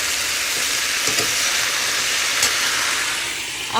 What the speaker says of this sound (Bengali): আর এখানে আলু ভাজা করছি সবে হলুদ দিলাম